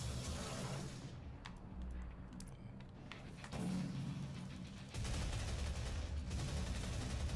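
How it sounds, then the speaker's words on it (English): Sustained rapid automatic fire from a chain gun in the Xbox One version of DOOM, a dense, loud stream of shots. It grows heavier and louder in bursts partway through and near the end. "Chain gun time."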